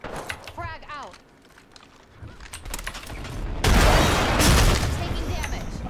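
A frag grenade goes off in a video game shooter as a loud, sudden booming blast with a rumbling tail, following a stretch of scattered game sounds and a brief voice in the background.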